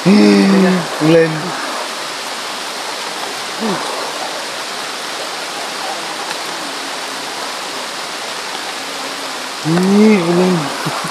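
Heavy rain falls steadily in a broad, even hiss through the whole stretch, with voices calling out briefly near the start and again near the end.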